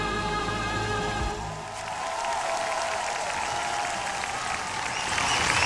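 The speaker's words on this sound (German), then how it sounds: "Und man feuert die Mannschaft an." Concert-hall audience applauding and cheering for the Aachen formation dance team at a Latin formation league event in Aachen, dense sustained clapping from a large crowd that swells slightly toward the end.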